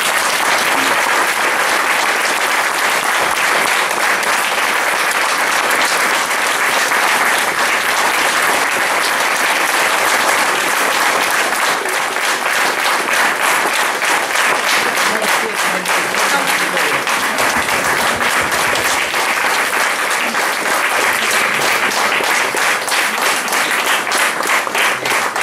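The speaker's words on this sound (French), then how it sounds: "Je vous demande d'applaudir comme il se doit Dominique Hassan" Dense, loud applause fills the hall at an official ceremony marking the tenth anniversary of CHD, a steady unbroken roar of many hands clapping that continues for about twenty-five seconds.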